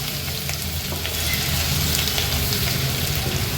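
Asafoetida, two bay leaves and crushed ginger-garlic fry in hot oil for a mutton sukka, a steady close crackling sizzle with bright spattering throughout and no voices.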